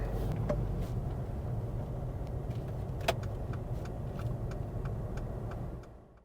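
A car pulls out of a car park, its engine a steady low hum throughout with a few faint clicks and ticks over the top, fading slightly at the end.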